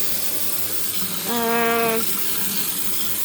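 A clogged sink drain gives a short gurgle partway through, a brief tonal bubbling lasting under a second against a faint background of running water and room noise.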